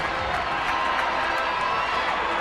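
Dense roar of a baseball stadium crowd of more than 30,000 fans on their feet, a loud sustained wash of cheering with no distinct breaks.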